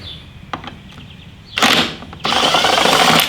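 A power drill runs in two bursts, spinning out fairing bolts on a Harley Davidson touring motorcycle. Light tapping and handling noises come first, then loud close whirring that stops briefly and starts again.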